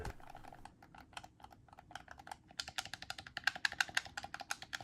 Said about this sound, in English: The buttons are very clicky, which is something that I really like to hear.